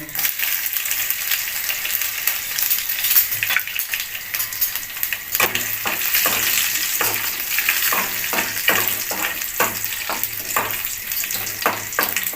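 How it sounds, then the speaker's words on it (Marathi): Mustard seeds crackle and pop in hot oil with curry leaves and crushed garlic, a dense close sizzle of rapid irregular spits and sharp pops that thicken into bursts later on. "मोहरी अशी तडतडून द्यायची नंतर कढीपत्ता घालायचा कढीपत्ता आणि चार पाच पाकळ्या लसूण ठेचून घातल्या"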